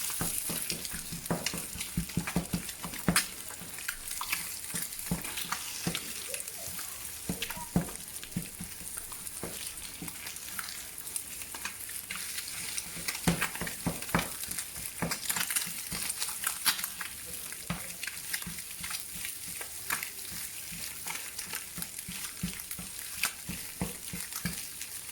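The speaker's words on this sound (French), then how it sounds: "Et je vais commencer à brouiller mes œufs." Eggs are scrambled and fried in a pan with sausages, giving a constant loud sizzle with frequent small scrapes and taps of stirring throughout.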